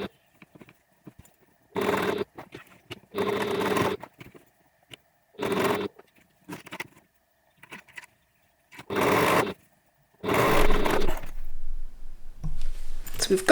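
A sewing machine stitches a backpack in short, separate runs of fast mechanical whirring and clatter, separated by quiet pauses and small handling clicks, up close.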